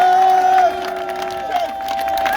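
Church crusade congregation cheering and acclaiming, a loud continuous crowd roar with whoops and sustained tones from music or voices, filling the space without pause.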